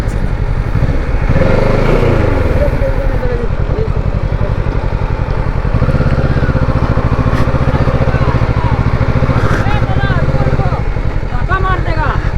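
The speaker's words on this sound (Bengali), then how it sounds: "বাইক রীতিমতো নিচের দিকে নেমে যাচ্ছে, আমি থ্রটল দিচ্ছি, চাকা ঘুরে যাচ্ছে" A Kawasaki motorcycle strains up a steep North Sikkim mountain road, its engine revving hard and loud throughout while the rear wheel spins. The pitch rises and falls with the throttle, close up and continuous.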